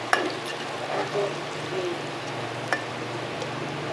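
Garlic and ginger fry in a pan as they are stirred, giving a steady close sizzle with a few soft scrapes and clicks of the spoon.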